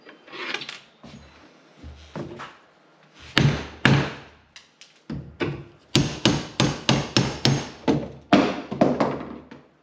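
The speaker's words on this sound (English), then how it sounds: "now I'm gonna knock this off with the hammer" Hammer driving a chisel to knock out a section of kitchen wood during a fridge-space modification, a series of loud, sharp near strikes, sparse at first, then a rapid run of about ten evenly spaced blows.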